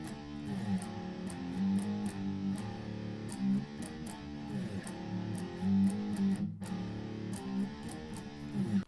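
A distorted electric guitar plays a beginner metal-style riff, thick buzzing chords chugging in a repeating pattern, close and steady with a brief break near the end.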